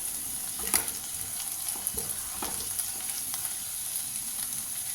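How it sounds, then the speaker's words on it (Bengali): Two eggs fry lightly in a kadai with a steady close crackle, broken by a few sharper pops and spits. "এরপর ডিমটা, 2টো ডিম, ওইগুলো একটুখানি হালকাভাবে ভেজে নিচ্ছি কড়াইতে"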